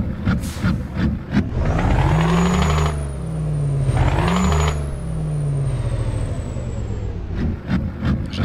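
Scania T V8 truck with open pipes and a chip tune, rated 730 hp and modded in Euro Truck Simulator 2, roaring loudly as it revs up through gears, with brief drops between shifts and a deep rumble throughout.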